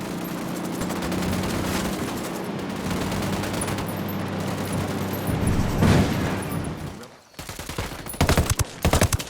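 Dense, sustained gunfire in the video game Ghost Recon Wildlands, a long fusillade of overlapping shots with rattling bursts, a brief lull, then renewed loud volleys, with voices faintly mixed in.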